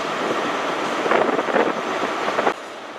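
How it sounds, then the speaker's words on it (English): Passenger trains at London Paddington on the Great Western Main Line, a Class 165 departing and a pair of Turbo units arriving: a steady rolling rumble with rhythmic wheel clatter, fairly close, ending abruptly. "We've got a 165 going out and a double pairing of turbos coming in."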